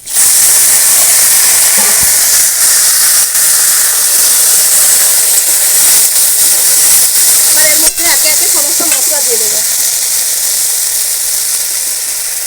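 Fish dropped into hot oil with fried onions and a pinch of five-spice, a loud, steady sizzle and hiss running throughout with a sharper burst of crackling near the end, no voices over it.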